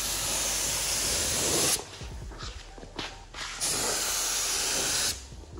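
A paint spray gun shoots base coat onto a car's front bumper, a loud, steady, close air hiss broken by brief pauses between passes.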